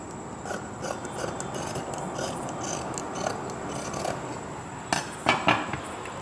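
Scissors cut fabric for a chudidhar top in a run of soft, repeated snipping and crunching sounds close by, ending with a few sharper clicks and no talking.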